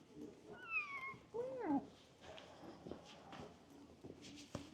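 A cat meows twice in quick succession, fairly close but quiet, followed by soft rustling and light footstep-like taps in a calm setting.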